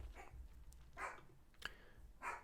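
A small dog barks indoors a few times, short separated yelps spaced about a second apart, fairly faint and distant with no talking over them.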